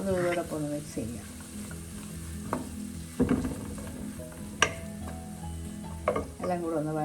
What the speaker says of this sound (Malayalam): നീളത്തിൽ കീറി വെച്ചിരിക്കുന്ന വെളുത്തുള്ളി ഇഞ്ചി ചേർക്കാം. അതും ഇതോടൊപ്പം ഒന്ന് മിക്സ് ചെയ്യാം.